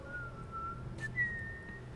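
Clear, steady whistling from a character in The Last of Us: Left Behind, a couple of sustained pitched notes with a slight upward step partway through, over a low ambient hum with no talk.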